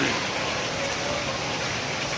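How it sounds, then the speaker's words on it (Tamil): Heavy rain pours down at night outside a shop, a dense, loud, unbroken hiss of falling water. "செம்ம மழை"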